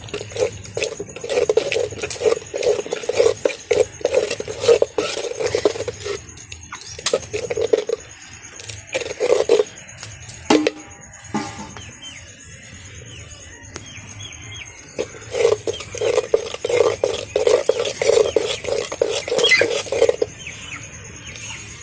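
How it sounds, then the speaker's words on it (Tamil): Sweet pongal made with jaggery being stirred in a pot, with repeated close scraping and clattering strokes in bursts, pausing midway before resuming. "இதையெல்லாம் நல்லா மிக்ஸ் பண்ணிவிட்டு வேக விடணும்"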